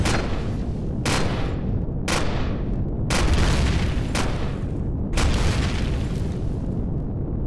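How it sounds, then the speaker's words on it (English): A sentry gun firing in Empyrion: Galactic Survival, with about seven heavy, booming shots spaced roughly a second apart, each one loud and followed by a decaying rumble. "some gun still in there shooting at me"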